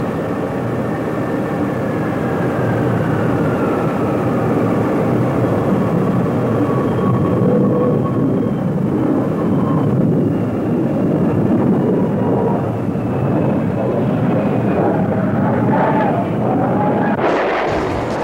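A B-52 bomber roars steadily in a loud, continuous jet-engine drone with a heavy low rumble that swells toward the end, no voices present.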